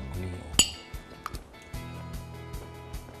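A spoon clinks against a dish while crab gravy over broccoli and carrot is tasted in a Thai cooking show kitchen, one bright ping followed by softer scattered taps under low background hum.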